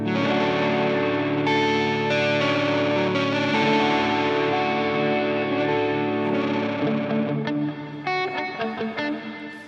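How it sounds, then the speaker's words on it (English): Dense, heavily distorted electric guitar strumming sustained chords, thick and saturated with effects, then breaking into choppier strokes near the end. "It's a little dense with all the distortion we have turned on."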